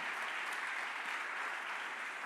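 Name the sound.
congregation applause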